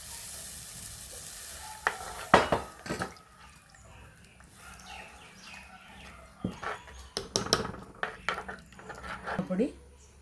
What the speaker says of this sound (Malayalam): ആവശ്യമുള്ള വെള്ളം ഒഴിക്കുന്നു.